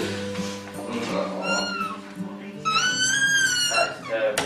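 A cat meows in a few drawn-out, wavering cries that rise and fall in pitch, fairly close, with people talking underneath and between the calls.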